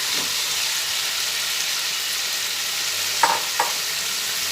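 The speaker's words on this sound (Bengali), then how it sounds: "এরপরে যে কুমড়োটা কেটে রেখেছিলাম সে কুমড়োটা এর মধ্যে দিয়ে দিলাম" Cut pumpkin pieces fry in hot oil in a pan for a vegetarian rice dish: a constant hissing sizzle with a couple of brief clinks from stirring near the end, close and steady, with no voices.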